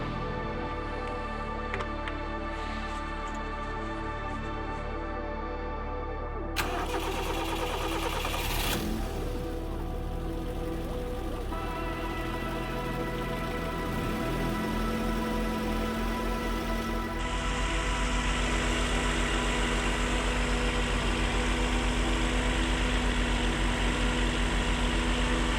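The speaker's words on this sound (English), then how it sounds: "I start her up to circulate the oil and I check for leaks while she's running" Car engine cranking and catching after an oil change, then settling into a steady, loud close idle with a shift in tone partway through, no talking.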